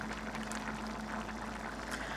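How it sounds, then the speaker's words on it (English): A pot of cheeseburger macaroni comes to a boil, giving a quiet, steady bubbling rumble with a faint hum beneath, brief and even throughout. "we're just gonna let this come to a boil and simmer until the macaroni's cooked"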